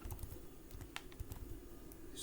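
Quiet keystrokes on a computer keyboard, a quick irregular run of taps as a command is typed, close and alone.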